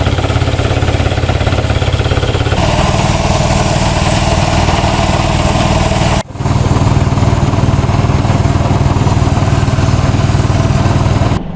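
A fishing boat's engine runs at low revs, a loud, steady close-up drone with a clear change in pitch partway through and a brief dip before it settles back into its constant thrum.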